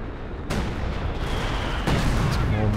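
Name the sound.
artillery fire in the video game Company of Heroes 2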